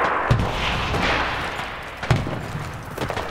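Two sharp rifle reports from a .223 Ruger Mini-14, about two seconds apart, fairly loud over steady outdoor background noise.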